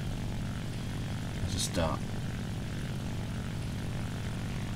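Propeller aircraft engines in War Thunder, a steady low droning hum with a quick whooshing fly-by sweep near the middle, under someone speaking German.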